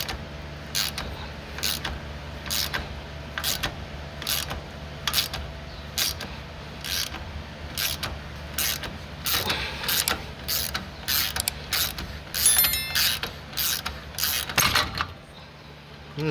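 A wrench ratchets a nut down against a washer to pull a car's rear axle seal. The close, repeated clicking strokes and creaks come in steady bursts, then quicken before a final clunk as the seal gives way.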